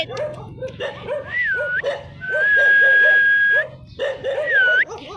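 Repeated sharp barks and high yips from a dog close by, with a thin whistling tone sweeping over them.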